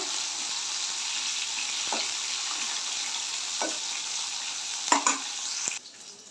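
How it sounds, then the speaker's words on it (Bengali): Sliced bitter gourd frying in oil in a pan, giving a steady, close sizzle throughout with a few soft utensil clicks and a brief clatter near the end. "এবার উচ্ছেটাও ভাজছি এটাও একটু হালকা লাল লাল করে ভাজবো"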